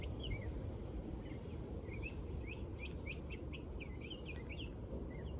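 Outdoors, a bird near its nest gives a run of short, high chirps repeated at an irregular pace, faint over a steady low background rumble.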